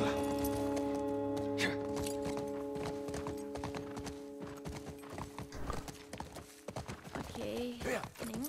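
A horse in The Last of Us Part 1 clip-clops with steady hoofbeats and snorts, close and clear, over a low music bed, while people speak Portuguese at times.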